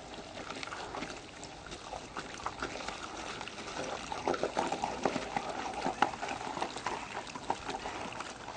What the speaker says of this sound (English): let's start using that water wand